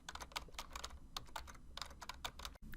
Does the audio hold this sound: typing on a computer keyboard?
yes